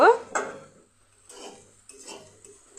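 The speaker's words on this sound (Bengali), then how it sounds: "লঙ্কা দিয়ে একটু ভেজে নেব" Green chilli is fried in a pan while paneer pulao is cooked. A few sharp spatula scrapes and clinks against the pan sound up close, with near-silent gaps between them and only a faint sizzle.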